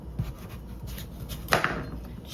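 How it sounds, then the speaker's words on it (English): A kitchen knife cuts the stem off an acorn squash on a cutting board, giving one sharp chop against a steady background hum, with a few softer knocks around it. "just chopping this little stem off the end and then cutting this in half"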